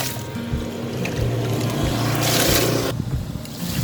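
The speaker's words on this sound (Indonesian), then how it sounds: "Ini kita siram lagi ya biar dia nanti pertumbuhan tunasnya lebih bagus" Water poured onto a grape vine in its soil, a steady close rushing and splashing that runs for a few seconds with slight swells in loudness.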